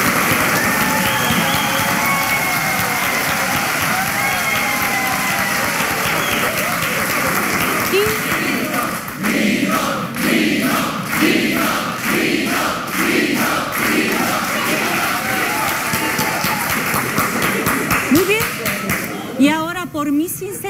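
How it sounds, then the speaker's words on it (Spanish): A studio audience at a Spanish-language comedy talk show claps and cheers, a dense steady crowd roar that turns into rhythmic unison clapping partway through, with voices mixed in beneath. "Un aplauso para Nino."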